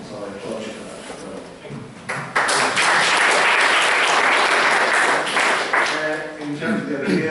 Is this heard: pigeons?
no